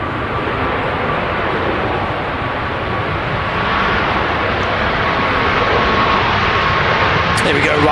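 A Ryanair Boeing 737 Max arriving from Palma de Mallorca rumbles in at Manchester Airport, a steady jet roar held at moderate distance with people talking over it.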